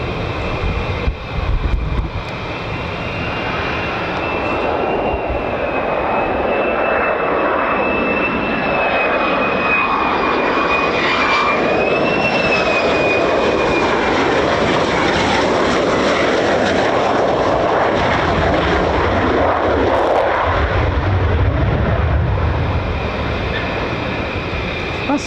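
F-15 and F-35 fighter jets land at RAF Lakenheath with a loud, continuous engine roar and a high whine that rises and falls, filling the clip for about 25 seconds with no voices.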